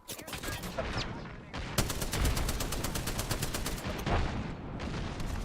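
Video game gunfire in a squad firefight, loud rapid automatic bursts and fusillades rattling almost continuously, with brief gaps between volleys.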